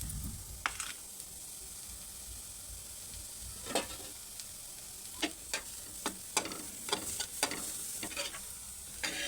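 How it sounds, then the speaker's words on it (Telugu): Onions sizzle steadily in a frying pan for a stuffed brinjal masala curry, while a spoon stirs and scrapes in a series of sharp clicks and knocks, heavier toward the end, with no talk. "కొన్ని ఆనియన్స్ వేయించుకుందాం."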